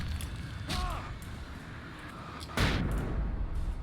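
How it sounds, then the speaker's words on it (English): A flashbang grenade bursts in the video game Alan Wake, a sharp bright blast that stands out over a low rumbling background, with a second burst a moment later. "Flashbang myself."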